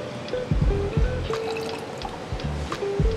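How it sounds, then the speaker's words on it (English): Water being poured into a big glass jar holding two peaches, a close, continuous gurgling fill with splashy drips and bubbling pulses. "So I added 2 peach and put plenty of water."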